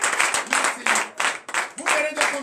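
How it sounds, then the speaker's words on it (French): Congregation clapping at a morning prayer meeting in Benin, rhythmic bursts of hand claps in steady groups with voices calling out beneath. "Donnez l'acclamation à Jésus."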